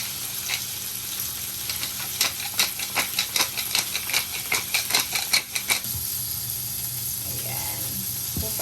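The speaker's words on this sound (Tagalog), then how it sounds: "Lutuin lang natin yung hipon natin." Shrimp fry in a hot pan with salt and pepper, a steady sizzle running throughout with a run of sharp crackling pops and spatters in the middle, then settling back to a softer hiss.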